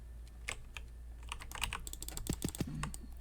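Quick clicks and key taps from a computer keyboard and mouse during Mutant Ops gameplay, a handful of short, fairly faint ticks with a denser cluster of rapid clicks toward the end.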